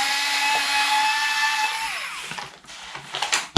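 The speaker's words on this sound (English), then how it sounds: "Favourite battery tool, already rigged up, ready to rock and roll, charged." Cordless battery power tool driving hex-head fasteners out of a Traxxas Slash RC truck's front suspension, a loud close motor whine that winds down after about two seconds, followed by small rattles and clicks.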